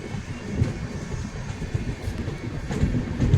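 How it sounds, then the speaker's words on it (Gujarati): Surat Mahuva Express pulling out of Liliya Mota, a steady low rumble of rolling wheels and carriage noise with faint rhythmic clatter, fairly close and continuous, no voices. "7:25 મિનિટે આપણી ટ્રેન ઉપડી છે લીલિયા મોટાથી"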